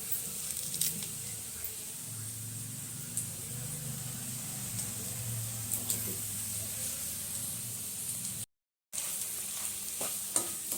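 Boti (tripe) fries with coriander in a pan, making a continuous close hiss and crackle with light stirring clicks. The sizzle runs steadily, with one very brief dropout near the end.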